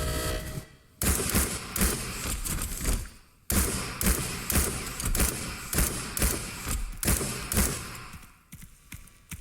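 Pistol shots from a Beretta in a video game: rapid, sharp cracks in irregular bursts, loud and close, broken by two brief gaps of quiet.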